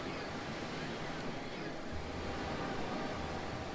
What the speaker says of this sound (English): I hope that water's not too loud for you guys.